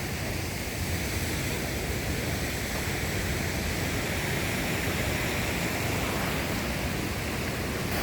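The Cascada Escondida waterfall roars in a dense, steady wash of falling water, loud and unbroken, with no voices over it.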